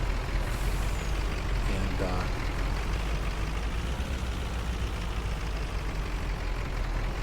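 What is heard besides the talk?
truck driving and air brakes in Farming Simulator 19 video game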